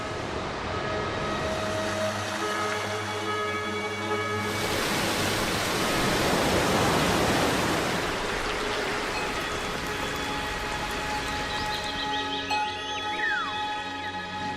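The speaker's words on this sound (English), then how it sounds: "This is the origin of the rain, which rushes down in countless waterfalls." Waterfalls at Roraima roar as a dense, continuous rush of falling water, loud and steady, swelling briefly in the middle beneath a faint tonal background.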